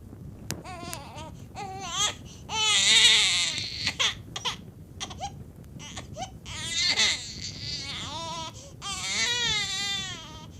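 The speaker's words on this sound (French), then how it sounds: "Les pleurs de l'enfant qu'elle venait de mettre au monde témoignèrent que l'accouchement s'était bien passé." A newborn baby cries in repeated wailing bursts with short breaths between them, loud and close, set in a dramatized birth scene with no talking.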